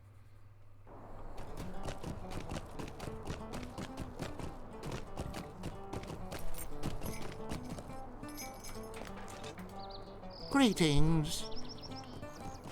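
Horse hooves clip-clop at a rapid steady pace in the Lord of the Rings Online video game, with a louder whinny near the end and faint bird chirps, while a voice speaks briefly.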